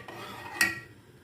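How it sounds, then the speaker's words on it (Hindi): A spoon stirring moong dal in a cooking pot gives a soft scraping swish and one sharp metallic clink against the side, close and brief, with no voices. "इसको हम मिक्स कर लेते हैं।"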